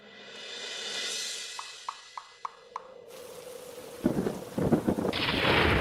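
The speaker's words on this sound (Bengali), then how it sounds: "এই তো ঝড় বৃষ্টি শুরু হয়ে গেল" A cartoon thunderstorm with rain, opening with a soft hum and a run of evenly spaced ticks, then a sharp shift into broad rushing noise and a crackling burst of thunder over steady rain hiss.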